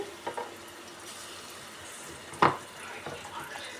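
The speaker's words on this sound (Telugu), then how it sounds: "పచ్చిమిరపకాయలు వేసి ఇలా బాగా వేగనివ్వాలి" Green chillies and spices frying in hot oil, a faint steady sizzle with a brief stirring scrape midway, close and quiet.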